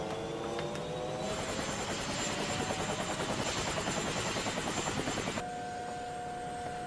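A cartoon helicopter in a German Teletubbies episode flies with a loud, steady rotor chop and engine whine. It drones on for several seconds, then the rhythmic pulsing stops and a cleaner tone remains.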